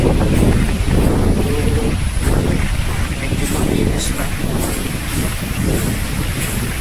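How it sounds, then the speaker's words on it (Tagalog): Strong wind buffets the microphone in a constant low roar, with a person speaking briefly over the rushing gusts. "Lakas ng hangin."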